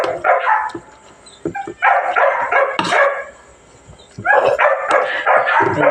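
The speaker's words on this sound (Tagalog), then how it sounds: "Ito naman sa asong chow-chow." A chow-chow dog at feeding time barks and yips in short bursts of two or three, close and loud, with whimpering and a quieter pause between bursts.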